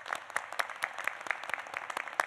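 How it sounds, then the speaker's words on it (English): Audience at a university fall commencement ceremony applauding, a steady patter of scattered claps from a large hall, fairly faint and distant throughout. "I think they deserve their own round of applause."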